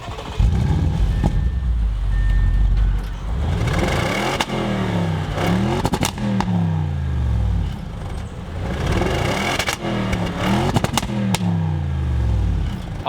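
A loud sports car engine burbles and is revved repeatedly, each throttle blip climbing in pitch and falling away, with crackles between the close, rhythmic revs.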